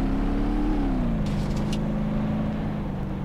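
A car engine in BeamNG.drive pulls away and revs steadily, a continuous loud hum that shifts pitch downward as the vehicle gets under way, with no talking over it.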